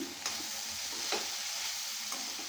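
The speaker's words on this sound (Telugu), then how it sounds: "రుచికి తగినంత ఉప్పు వేసాక ఇలా కలుపుకుందాం" Cabbage curry seasoned with salt being stirred in a pan, giving a soft steady scraping and sizzle with a few sharper spoon strokes, close and fairly quiet, with no talking.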